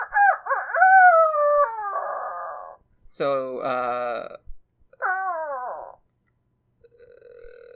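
A person's voice imitates turkey calls: several gobbling, warbling bursts separated by short pauses, close and fairly loud, with no other sounds.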